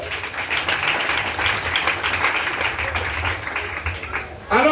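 A church congregation applauds and cheers for Jesus during a French-language sermon, a steady wash of clapping and voices throughout, with a brief louder swell at the very end.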